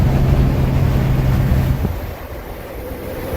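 A 1994 Toyota Supra twin turbo with a six-speed manual cruises on a highway with the windows down, a loud steady roar of wind and road noise whose low rumble drops off partway through.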